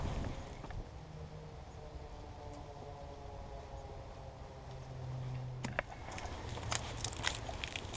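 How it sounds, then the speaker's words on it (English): Wind buffets a camera microphone outdoors on a cold Texas hike, a steady low rumble with gusts swelling and fading throughout, plus a few sharper knocks near the end. "due to the wind, I hope the camera is not gonna distort the sound or mess up the sound"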